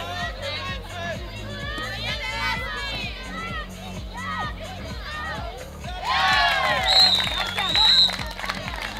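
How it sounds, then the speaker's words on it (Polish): A crowd at a women's handball final applauds, cheers and shouts, with rhythmic clapping and excited voices throughout and the cheering swelling louder near the end. "Brawa."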